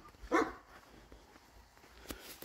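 A dog gives a single short bark nearby in a quiet home, followed by faint background noise and a brief thump.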